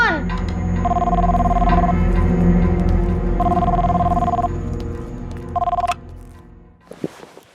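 A telephone rings in three spaced bursts over a background musical drone, followed by a short clatter as the ringing stops.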